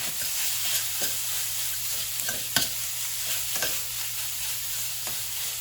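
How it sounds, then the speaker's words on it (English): Browning sausage in a pan, mashed and broken up with a slotted spoon for a breakfast casserole, giving a steady sizzle with repeated scraping clicks up close and no talk. "I'm just kind of mashing it with the slotted spoon that I have"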